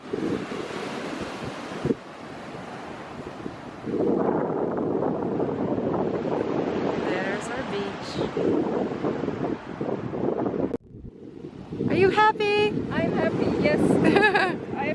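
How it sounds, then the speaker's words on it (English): Waves breaking on a pebble beach in Cyprus, with surges of surf and wind buffeting the microphone, rising and falling in loud rolling washes; a voice speaks partway through and excited voices come in near the end. "watch out, these waves are crazy."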